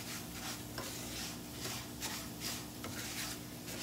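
Red rice with vegetables fries in a pan with a soft steady sizzle while a spoon scrapes and stirs it in rhythmic strokes about every half second, close and fairly quiet.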